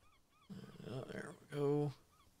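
A seagull in the video game Monuments Flipper gives a short, loud, honking squawk, preceded by a rougher, murkier stretch of sound over a quiet game background.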